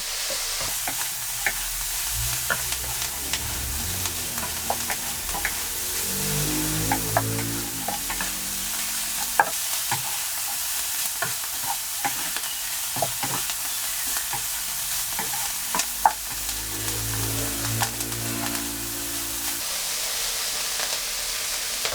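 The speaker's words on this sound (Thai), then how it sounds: "เดี๋ยวผัดจนสุกใสดีแล้วนะคะ" Minced chicken breast stir-fried with garlic chive flowers and chilies, a continuous sizzle broken by repeated spatula scrapes and clatters against the pan.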